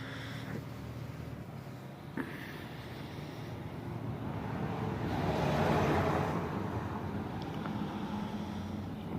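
A dirty engine fitted with a jetted carburetor and full exhaust idles steadily close by, with a continuous rumbling drone that swells slightly in the middle and carries wind noise across the microphone.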